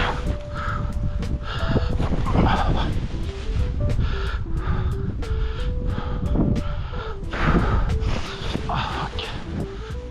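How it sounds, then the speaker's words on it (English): Strong wind rushes past during paragliding as a continuous broad, gusting roar, while a series of stepped electronic beeping tones sounds above it. "It is pretty strong winds actually."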